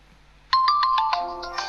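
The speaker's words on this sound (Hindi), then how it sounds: "रिंगटोन चेक कर रहे हैं अभी" Ringtone from an Itel A05s (A663LC) phone after a ringer repair, a bright chiming melody of quick tones starting abruptly and playing loud and clear from the speaker.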